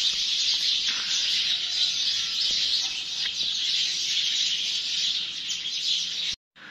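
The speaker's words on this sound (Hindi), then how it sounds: "देखें माशाल्लाह सुबह सुबह इनकी चहल पहल सुना करें आप परिंदों की" Early-morning birds chirping in a dense, continuous chorus, with bright overlapping tweets and an occasional cluck from fowl, steady throughout before cutting off abruptly near the end.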